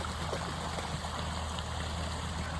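An animal lying in water, splashing and gulping mouthfuls, sounds as a steady wash of trickling, gurgling water throughout, fairly close, with no talking.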